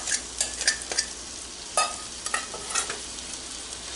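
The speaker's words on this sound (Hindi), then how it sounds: "बटर मेल्ट हो गया है, चिकन सारा मैं इसमें डाल दूंगी मैरिनेशन के साथ।" Marinated chicken dropped into melted butter in a hot pan, giving a continuous sizzle with repeated stirring scrapes and clatters across the whole stretch, close and fairly loud, with no talking.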